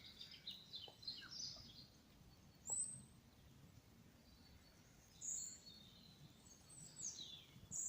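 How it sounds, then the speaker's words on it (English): Faint birdsong in quiet woods: scattered chirps and a few brighter trills rising now and then over a soft, hushed background. "You can hear the birds."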